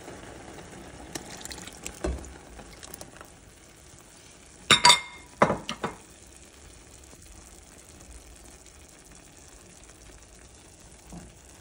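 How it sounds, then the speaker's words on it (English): Coconut milk poured into bhaji cooking in a pot for Guyanese seven curry, a brief gushing splash with a few clinks and stirring knocks amid a low simmering background. "Here now I will go in with some coconut milk"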